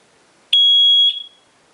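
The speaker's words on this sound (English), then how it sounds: "When it senses water on the bottom on these two contacts, it sent this little alarm" A Watchdog water leak alarm sounding under a kitchen sink cabinet after a leaky Price Pfister faucet: one loud, sharp, high-pitched electronic beep lasting about half a second, then fading quickly in a quiet room.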